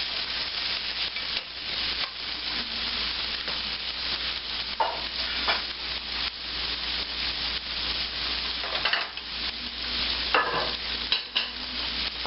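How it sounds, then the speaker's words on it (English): Chicken poblano sizzles steadily in olive oil in a pan, making a continuous frying hiss with occasional stirring scrapes and no talking. "Listen to that beautiful sizzle."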